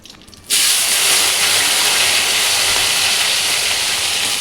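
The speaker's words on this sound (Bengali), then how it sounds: "এখন চিংড়িগুলো একটু ভেজে নেব" Shrimp dropped into hot oil in a home kitchen, bursting into a loud, steady sizzle and hiss that starts abruptly and keeps going, close and with no talking.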